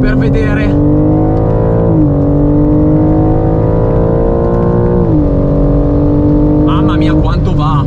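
A BMW M4 Competition accelerates hard on an airport runway, its engine note climbing loud and close through two gear shifts, with brief talk at the start and end.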